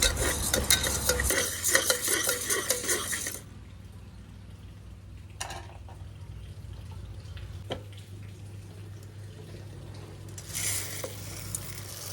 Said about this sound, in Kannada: ಸಬ್ಬಕ್ಕಿ ಮತ್ತು ಹೆಸರು ಕಾಳು ಟೋಸ್ಟ್ ಮಾಡಬೇಕು ಒಂದು ಒನ್ ಮಿನಿಟ್ ಸಾಕು